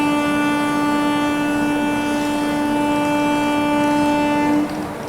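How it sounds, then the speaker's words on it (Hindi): The 12430 Lucknow AC Superfast Express sounds a long, loud, steady horn as it departs Bareilly Junction, a rich multi-tone blast that holds for several seconds before cutting off, leaving a lower rolling rumble. "अपनी Lucknow AC superfast express depart कर चुकी है बरेली जंक्शन से"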